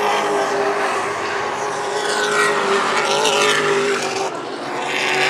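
Race cars roar past on the WESCAR oval at Hythe Motor Speedway, engines screaming loudly and continuously as the field streams by, with a brief dip before the next cars arrive.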